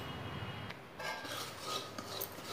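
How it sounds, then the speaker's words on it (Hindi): Dry semolina (rawa) being stirred and roasted in a pan over a low flame, a steady close scraping and rasping texture with a few brief louder strokes, no voices. "लगातार धीरे धीरे चलाते हुए कम फ्लेम पे हमें भूनना है।"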